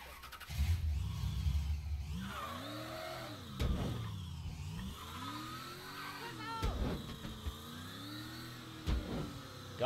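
A car engine revs and shifts while driving in Mafia III, rising and falling in repeated surges, with someone talking over it at times.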